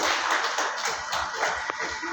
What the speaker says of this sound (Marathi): जोरात टाळ्यांचा गजर करूया